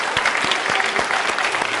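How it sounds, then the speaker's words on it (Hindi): Loud applause from an audience at a National Women's Day event for college dancers, a steady wash of many hands clapping close and continuous. "जोरदार तालियां।"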